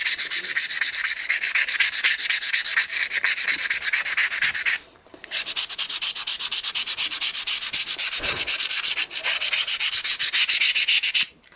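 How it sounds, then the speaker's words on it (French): Steady rhythmic rasp of hand-sanding a handmade wooden knife, close and loud, long strokes repeating with two brief pauses, no talking. "là on a poncé tout le couteau"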